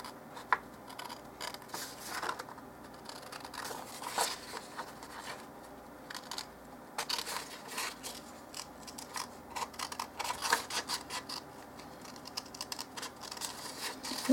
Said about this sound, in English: I'm going to cut this with scissors, I think, because it's so small.